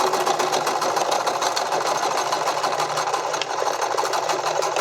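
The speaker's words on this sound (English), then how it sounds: "And just sew over that a few times." A sewing machine runs continuously and rapidly, stitching a wide zigzag over stretch fabric beside an invisible zipper, its needle chattering in a close, steady whir with no voices.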